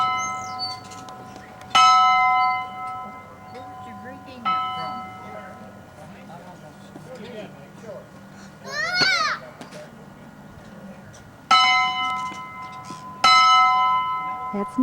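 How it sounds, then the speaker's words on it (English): A bright old schoolhouse bell rings out in several separate strikes, each tone ringing on and fading, with a child's babbling and quiet voices in between. "That's Nicholas ringing the bell."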